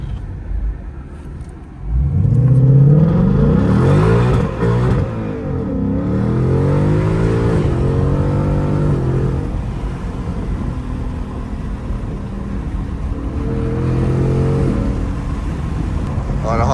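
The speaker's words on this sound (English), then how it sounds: "I should burn some tires though" A 2019 Ford Mustang GT with its 5.0 V8 revs hard during an attempted tire burnout on a backroad straightaway, a loud close engine roar that climbs and falls through several rising pitches, with a faint voice beneath it.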